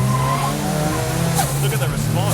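Turbo Toyota Hilux and turbo Gemini launching side by side in a drag race, engines roaring and revving loudly close by, with tyre squeal and a person speaking over the noise.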